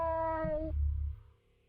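A single cat meow rings out in the video game Fear & Hunger, a clear drawn-out cry over a low rumbling game ambience that fades away after about a second.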